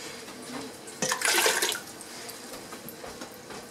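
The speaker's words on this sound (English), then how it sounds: "And 5 cups of water." Five cups of water poured into a pot while canning pears, a brief splashing gush of about a second that stands out from a quiet kitchen background.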